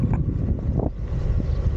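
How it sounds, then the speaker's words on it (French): Strong wind batters the microphone of a rider on a moving Studio F.A. Porsche-designed electric scooter, producing a dense, steady low rumble with irregular gusty flutters throughout. "il y a un vent de ouf"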